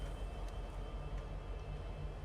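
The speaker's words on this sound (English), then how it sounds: "Let me just show you the train." A train rumbles steadily in an indie video game, a continuous low, broad roar with faint rattling that stays at an even level throughout, with no talking.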